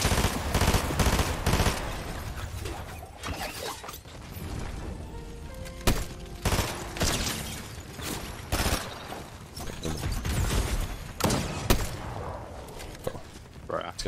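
Rapid gunfire bursts in the game Fortnite, a duo squad match, crackle through most of the stretch in dense sharp volleys with brief gaps, while players talk over the shooting.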